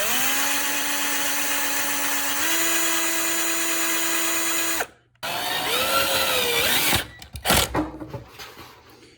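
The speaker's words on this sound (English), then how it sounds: "Next I just need to drill some pilot holes and screw this in." Power drill boring pilot holes into workbench wood: a steady, loud motor whine with a slight pitch step, a brief stop, then a second burst that bogs and stutters into rough, uneven grinding near the end.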